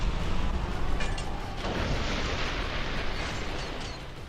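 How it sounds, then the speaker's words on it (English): In the Armored Core 6 video game, a plasma missile launcher fires mini energy rockets that spread out before detonating, giving a dense roaring blast with a brief zap and a fading rumbling wash. "The plasma missile launcher fires 3 mini energy rockets that spread out before detonating."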